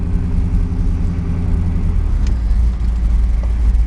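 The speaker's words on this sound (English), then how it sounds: "this center mount manifold system is it's a lot throatier sounding" A truck with a center-mount manifold and a full 4-inch exhaust off an S300 turbo idles with a deep, steady, throaty rumble, loud and close, with no voices.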